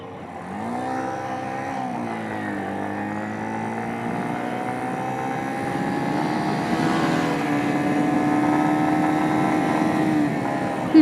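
A minibike engine runs at full throttle, a loud, steady buzzing drone that dips briefly and then climbs slowly in pitch and intensity over several seconds, with no voices over it.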